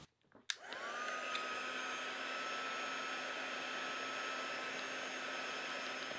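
A hair dryer switches on and blows a steady, close whirring rush of air to dry a watercolour face painting, running continuously without speech.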